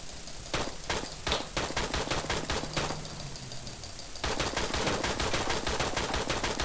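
Rapid bursts of quick-scope gunfire in a first-person shooter game, loud repeated cracks in clusters with a brief quieter pause before a denser volley resumes.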